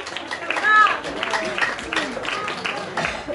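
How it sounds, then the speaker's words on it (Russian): Audience at a concert applauds to welcome a singer onto the stage, a continuous wash of many clapping hands with crowd murmur and a few voices underneath. "Давайте встретим аплодисментами."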